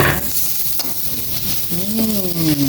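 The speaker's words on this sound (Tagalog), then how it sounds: "Magigisa naman po si Papa ng bawang." Garlic sizzling in a hot pan for fried rice, a loud continuous frying hiss with a spatula scraping and stirring close by, while a voice or tone rises briefly toward the end.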